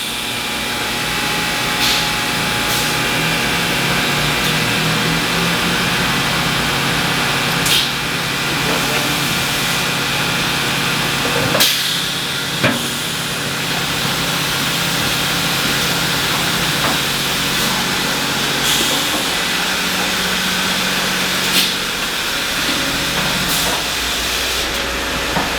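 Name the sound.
HVAC blower motor running at carwash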